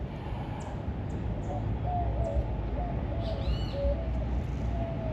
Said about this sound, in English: I hear a variety of birds.